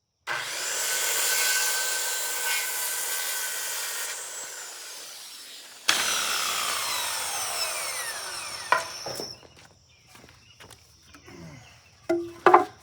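Hand sawing through wood boards during a carpentry build for a Toyota Sienna camping conversion, with long steady back-and-forth strokes up close, then a pause, another cutting run and a few knocks of the workpiece.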